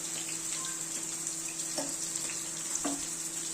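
Paneer frying in a pan until reddish-brown gives a steady, even sizzle that runs throughout, with a couple of faint clinks and no talking.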